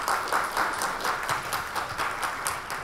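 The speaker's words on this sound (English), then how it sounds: "so please round of applause for Chungbo." An audience at an industry conference session on TV formats breaks into applause, producing a fairly loud, dense wash of many hands clapping at once, steady for a few seconds.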